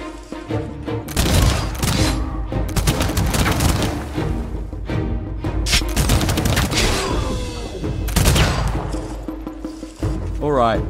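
Gunfire from units in the strategy game Humankind during a battle at city walls: dense, repeated volleys of shots and impacts crackle almost continuously over a busy battle soundscape, with a voice speaking at times.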